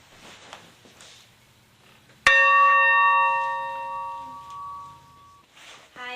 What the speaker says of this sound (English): over here we have an old bell from a steam engine that I'll ring for you